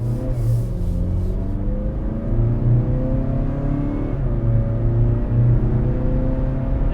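A Mazda CX-50 engine pulling hard from inside the cabin, its drone climbing in pitch, dropping back at a slow automatic upshift and climbing again, steady and fairly loud.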